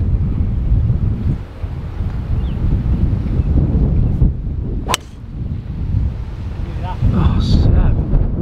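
Wind gusts across an open golf course on an uphill hole, a loud continuous rumble buffeting the microphone, with a sharp brief crack partway through.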